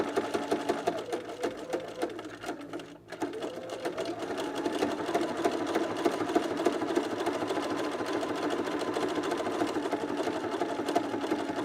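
A sewing machine stitching steadily over a thick seam allowance hump, a continuous whirring motor with rhythmic needle clatter, close and fairly loud, with a brief pause early on.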